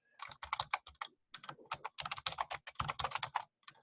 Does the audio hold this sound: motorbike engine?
no